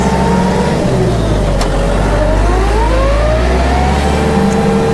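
A Kubota tractor engine with a small turbo revs hard nearby, a loud continuous drone rising and falling in pitch with a turbo whine over it.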